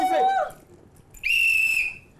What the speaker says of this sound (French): Et il faut siffler, il faut siffler.